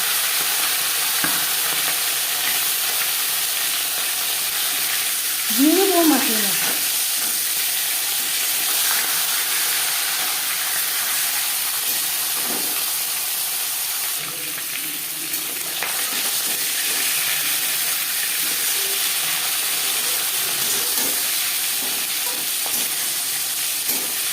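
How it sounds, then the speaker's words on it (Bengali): Bata fish heads fry in hot refined oil in a pan, giving a constant, close, dense sizzle and crackle that runs the whole time with only a brief faint tonal sound partway through. "সবার প্রথমে মাছের মাথা ভেজে নেব চার পাঁচ চামচ রিফাইন্ড অয়েল গরম করে নিয়েছি"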